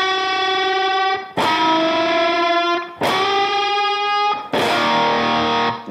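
An electric guitar runs through effects with distortion and chorus, playing a scale riff high on the neck. Three separate bright, sustained phrases ring out alone, each with a sharp attack and a long fade.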